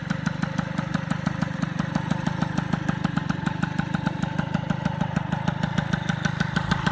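A 1989 MBK 51 Magnum Racing moped's small two-stroke engine idles close by in a fast, steady, even putter that stays level throughout.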